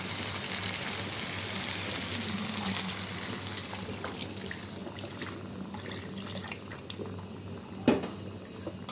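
Broth poured into a simmering pot of pigeon and potato curry gives a steady liquid splashing and bubbling wash, close and continuous, with a brief louder clatter near the end.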